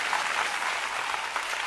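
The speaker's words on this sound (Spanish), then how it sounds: "Un aplauso porque está muy lindo" Studio audience applause at a televised blind audition of La Voz Uruguay, a steady, even stream of many hands clapping, moderately loud and continuous without speech.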